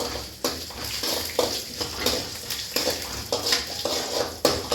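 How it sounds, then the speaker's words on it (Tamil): Mustard seeds with urad dal and chana dal splutter in hot oil in a pan. Close, irregular crackling pops and bursts repeat in quick succession over a steady frying hiss. "வேணுட்டுக்கு கடுகு பொரியணும்."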